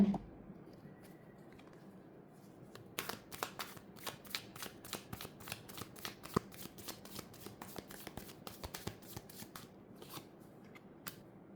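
Tarot cards being shuffled up close: a soft rustle first, then a long run of crisp, rapid card snaps in an uneven rhythm, with no voices.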